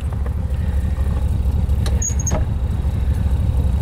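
A 1955 Ford three-row wagon engine idles steadily at close range, a continuous low rumble with a brief squeal partway through.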